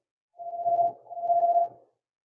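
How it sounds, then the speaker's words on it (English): A phone ringing in two steady electronic tone bursts of about half a second each, with a short gap between, fairly loud and alone. "Sorry about the phone ringing."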